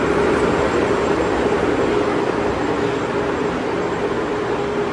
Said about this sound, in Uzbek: Men Severniy vokzalga keldim.